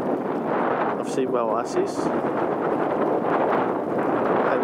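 Steady wind blowing at a salt lake in Siwa Oasis, Egypt, a loud continuous broadband rush filling the whole stretch while someone speaks over it.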